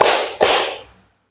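A sharp clap in a classroom clapping game, struck once and then again at the start of a second burst, each with a short bright decay, loud and close with no talk.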